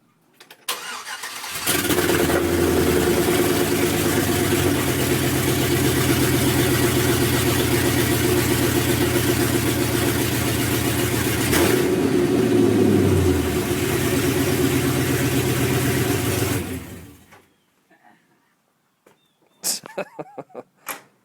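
A truck with a swapped-in 5.3 V8 from a 2005 Tahoe starts and runs steadily and loud, close by, for about fifteen seconds, then shuts off into near silence before a few faint knocks.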